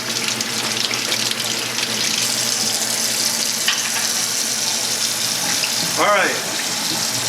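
Warm water streams steadily from a faucet into a sink during a home walkthrough in The Villages, Florida, a constant broadband rush running the whole time, with a brief spoken phrase and a short squeak or clatter near the end.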